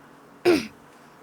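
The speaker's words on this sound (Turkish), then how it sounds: "Beni öksürük tuttu ya bugün." A single short, sharp throat-clear or cough from a man bursts out once against a quiet room, lasting well under a second.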